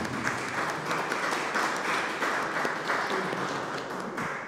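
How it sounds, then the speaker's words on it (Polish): A live audience at a book launch applauds steadily, a dense, even patter of clapping from a roomful of people that holds for several seconds before easing slightly. "Dziękuję za oklaski"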